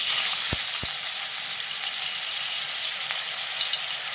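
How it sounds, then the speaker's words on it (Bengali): Onion paste hitting hot oil in a wok, a bright steady sizzle just after two low thumps as it goes in, close and continuous with no voices. "দিয়ে দিচ্ছি এখানে পেঁয়াজ বাটা"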